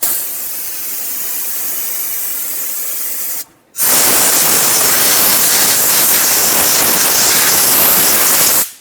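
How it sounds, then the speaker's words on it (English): Brake parts cleaner sprays onto the front brakes of a 2008-2012 Honda Accord in two loud, close hissing bursts, a short pause separating a shorter spray from a longer, steady one. "Rinse it down with some brake parts cleaner."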